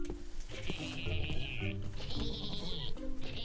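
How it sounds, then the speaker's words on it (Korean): Goat bleats from Minecraft, a few wavering, nasal cries in a row, close and clear over low background noise. "어디서 병 걸린 염소 새끼 소리 나는데?"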